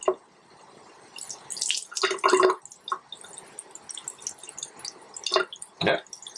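Water runs and splashes intermittently from a Kohler three-handle kitchen faucet with low flow after a cartridge replacement, in faint uneven spurts and drips into the sink.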